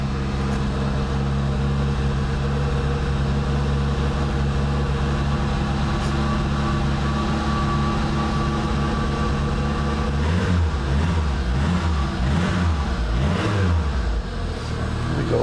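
A cold carbureted engine runs steadily at a fast idle, a loud, close, even drone that swells into a few throaty revs near the end, with no talking.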